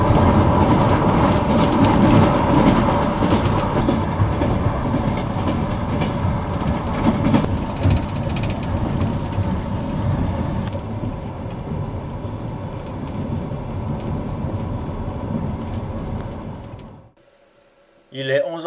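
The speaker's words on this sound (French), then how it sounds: "nous croisons de nombreux trains de voyageurs et de marchandises dans les gares" A train on a single-track line in Kazakhstan rolls past with loud, steady clickety-clack of wheels over rail joints, fading out abruptly near the end; a voice is faintly present.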